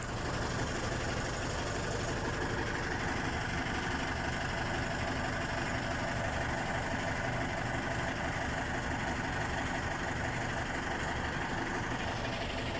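Continuous low rumble of a heavy tractor engine idling nearby, steady and unchanging throughout with no talking.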